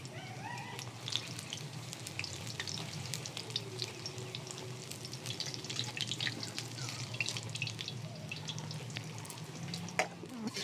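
Jute leaf pakoras fry in hot oil with a steady, close bubbling sizzle and scattered crackles and pops.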